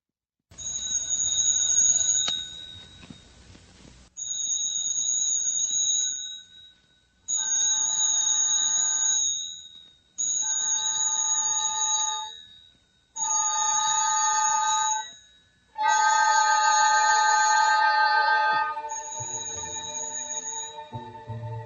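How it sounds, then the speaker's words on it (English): An old-fashioned telephone bell jangles in repeated bursts of ringing separated by short pauses, loud and close, as a radio drama effect set on a hot Singapore night. "The jangling of a telephone, ringing in the dead silence, in the dead heat of the Singapore night."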